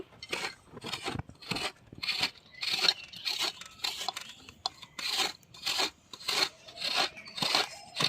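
Coconut being grated by hand for rice rose pitha, a run of rhythmic raspy scraping strokes in quick repeated bursts, close and fairly quiet, with no talk over it.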